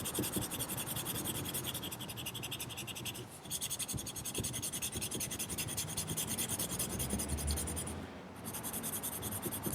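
Steady scratchy rubbing of a pencil or crayon across paper, close and continuous, with a couple of brief pauses.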